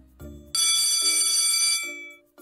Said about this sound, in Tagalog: Habang nagpapaliwanag si Binibining Kabiles, biglang tumunog ang kampana.